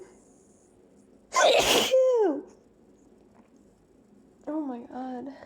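A person gives one sharp, explosive sneeze that trails into a vocal groan, followed a few seconds later by short breathy whimpers. The sounds are close and loud against a quiet room.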